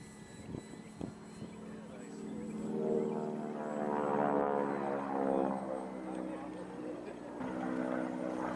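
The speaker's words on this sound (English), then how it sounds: "I could bring her down for some beauty flybys" Eclipson TL Stream 3D-printed RC plane passing overhead, its propeller buzz swelling to a peak mid-clip and fading away, moderately distant and fairly faint.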